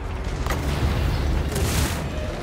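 Cannon artillery fires in the fantasy strategy game Total War Warhammer 2, with a few heavy booms landing over a dense, rumbling battle din.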